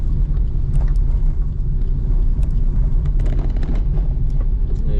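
A car overtakes on the monsoon-wet Malshej Ghat road in Maharashtra, a steady loud low road rumble and tyre roar with brief higher hiss and whoosh as vehicles pass nearby.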